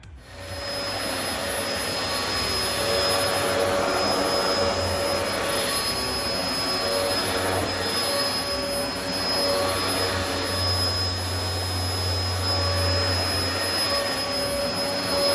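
A Shark vacuum cleaner runs continuously with a loud, steady whine and roar, its pitch shifting slightly as it moves across carpet.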